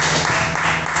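Brief burst of congregational applause at a church service, a dense, loud wash of clapping that stays steady for about a second, with a low hum underneath.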